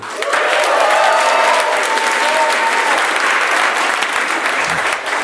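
A large comedy club audience claps and cheers loudly, a dense wash of applause that stays steady throughout.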